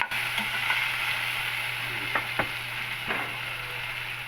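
Chicken pieces fry in a pan with a steady close sizzle and a few sharp clinks of a utensil against the pan.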